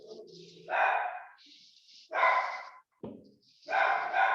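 A house dog barking repeatedly nearby in loud, drawn-out barks with short pauses, one sharp yip among them, heard alone without talk.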